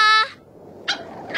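A small anime puppy in Flame of Recca gives a short, high yelping bark, then a couple of brief yips follow after a pause, close and clear.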